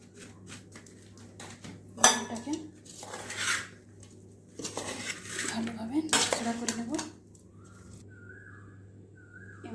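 Young jackfruit being stirred with a metal utensil in a pan with mustard oil, bursts of scraping and clinking against the metal in short irregular spells, separated by quieter gaps with a low steady hum beneath.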